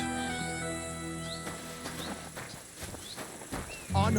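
A horse's hooves clip-clop at a slow walk in the medieval game Kingdom Come: Deliverance II, soft and rhythmic under music and game ambience, ending with a louder vocal sound.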